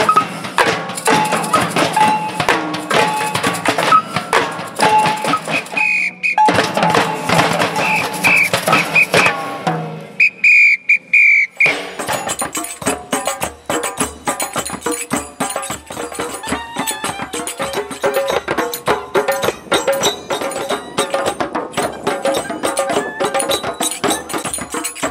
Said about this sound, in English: as you can hear behind me, people playing together whatever they like and as much music making going on as possible all together.